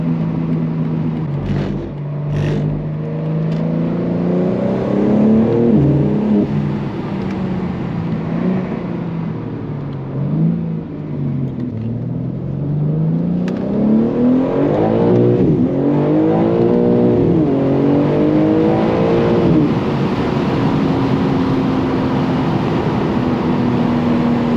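A 700hp Genesis G80 engine revs loudly and continuously from inside the car on a drive. The pitch climbs and drops in repeated sweeps, bouncing off the rev limiter with a wavering, stuttering tone.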